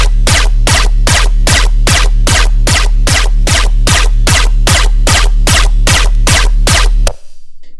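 A subby dubstep gun bass synth patch made in Serum fires roughly sixteen loud, evenly spaced pulsing hits in a fast steady rhythm, then cuts off abruptly into silence.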